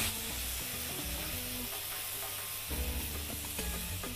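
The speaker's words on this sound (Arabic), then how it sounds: "هحط بدلها تقليبه واحده الخضار اللي انا برضو حطاها" Stir-frying onion and peppers soaked in marinade for a fajita salad: a steady pan sizzle runs under faint background music, with scraping and tossing bursts near the end, close and moderately loud, with no talking.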